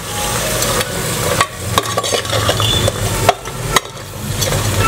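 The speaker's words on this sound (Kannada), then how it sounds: "ಏಡಿ ಮೀನನ್ನು ಈ ಮಸಾಲೆ ಜೊತೆ ಚೆನ್ನಾಗಿ ಒಂದು 5-6 ನಿಮಿಷಗಳ ಕಾಲ ಚೆನ್ನಾಗಿ ಬೆರೆಸ್ಕೋಬೇಕು" Crab pieces are stirred with masala as they fry in ghee, a steady sizzle broken by scraping and clacking of the spoon against the pan at irregular intervals.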